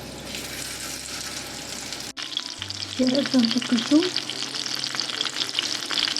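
Chicken cutlets sizzle and crackle steadily in a hot frying pan, with a brief cut, a short remark from a woman, and stirring clatter over the frying.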